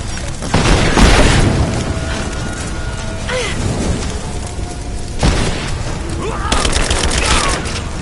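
A grenade blast and rapid gunfire in the Rise of the Tomb Raider video game on PS4, with heavy booms near the start and again midway, dense crackling shots throughout and shouted voices mixed in.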